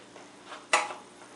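A heavy-duty foil-lined sheet pan is handled, giving one sharp metallic clank close by after a few quieter shuffles, then fading quickly.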